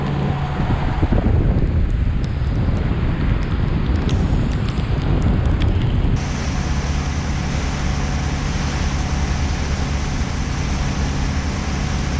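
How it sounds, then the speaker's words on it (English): Gusty wind buffets a sailboat motor-sailing at sea, roaring and rumbling loudly for the first half before settling into a steadier, even drone of wind and motor, with no one talking. "The wind picked up, and that plus the motor, we're doing about 8 knots."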